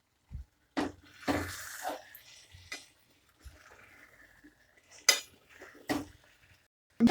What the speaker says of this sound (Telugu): ఇప్పుడు ఒకసారి మనం కలుపుకుందాం